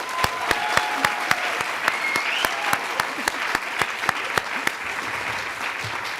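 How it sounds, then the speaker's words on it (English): Audience applause for the speakers at an ocean rights summit, steady clapping from a crowd with distinct loud individual claps standing out in a regular rhythm near the microphone, continuing for several seconds. "can we join in another round of applause for Isabella and all of our wonderful speakers tonight?"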